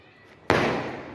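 A Diwali fireworks shot from a 12-shot cake goes off once, a sudden loud burst after near silence that trails into a long decaying rush.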